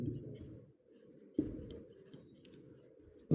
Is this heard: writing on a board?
yes